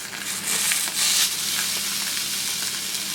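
Beef steaks laid on a very hot, smoking pan sizzle with a steady, loud, bright hiss that swells briefly and then holds constant, with no talking.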